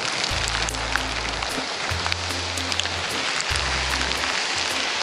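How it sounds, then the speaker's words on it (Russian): Hail falls high in the Peruvian mountains at about 3,800 metres, a dense, steady patter and hiss that fills the air, with a low droning hum beneath it. "А теперь град."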